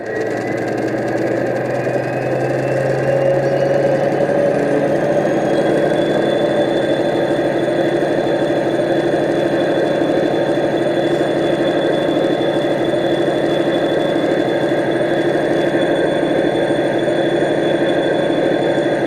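A model train's diesel engine sound, played through speakers in a model HST, idles steadily with a low, throbbing burble and a faint high whine, unchanging and close throughout.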